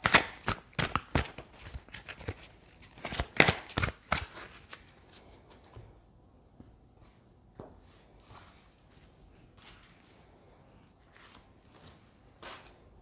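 Animal spirit oracle cards are shuffled by hand in a run of quick, crisp riffling bursts that start loud and close, then thin out into softer, sparser card handling.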